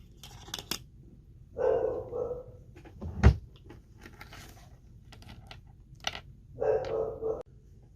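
A dog barks in a quiet room: a few separate short barks spaced over several seconds, along with a sharp knock and small household clicks.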